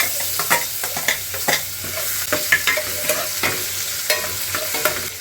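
Coarsely crushed garlic and green chilli fry in ghee, a steady sizzle broken by regular scraping strokes as a spoon stirs the pan, close and clear.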